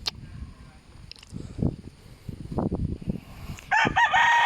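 A red rooster among many chickens on a farm crows loudly several times, with clucking and scattered noises in between and a strong crow at the end.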